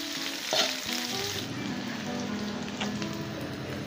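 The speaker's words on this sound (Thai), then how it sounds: "หอมซอยใส่ลงไปนะครับเจียวหอม" Sliced shallots fry in hot oil with a dense, rain-like sizzle, close and continuous, with a few clinks of stirring early on and no voices.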